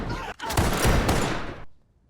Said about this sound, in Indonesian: bawahan Bu Presiden menodongkan pistol dan menembakkan peluru ke arah Bu Presiden